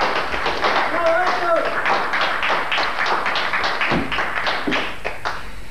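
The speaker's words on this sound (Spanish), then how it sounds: "fuerte el aplauso" Studio audience on an Argentine morning TV show claps in a steady, loud burst of applause that runs the whole stretch, with sharp individual claps standing out near the end.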